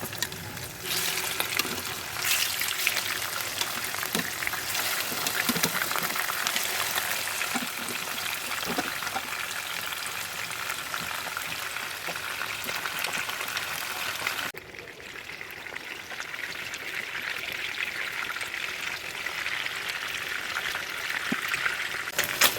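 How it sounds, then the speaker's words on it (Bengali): Koi fish fry in a generous amount of hot oil, giving a continuous close sizzle that runs the whole time and softens slightly partway through. "তো তেল গরম হয়ে গেল, এবার আমি মাছগুলো ভেজে নেব।"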